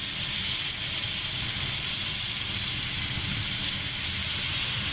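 A low-carb beef burger patty fries in a pan with a steady, loud sizzling hiss that holds evenly without pause.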